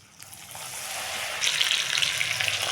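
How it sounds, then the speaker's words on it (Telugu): Sweet corn kernels for crispy corn frying in hot oil, a steady hissing sizzle that grows louder partway through, heard close and alone. "ఇప్పుడు ఈ కాన్ వేసుకునేటప్పుడు మనం ఏదైనా ఇలా ఒక అడ్డుగా పెట్టుకొని వేసుకుందాం లేదంటే ఇవి పైకి పేలుతాయి అనమాట"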